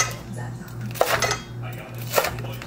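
A knife cuts through a crisp pork tonkatsu cutlet on a plate in two distinct strokes, each ending with a sharp scrape and clink of metal on ceramic over a low background hum.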